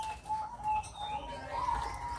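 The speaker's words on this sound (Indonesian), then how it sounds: "Burung kecil yang lucu sekali, burung gereja ini." Small house sparrows give faint, thin chirps against a quiet background hum, with a soft cooing dove-like note and a brief wing flutter nearby.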